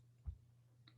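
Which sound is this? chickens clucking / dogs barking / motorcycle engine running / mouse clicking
mouse clicking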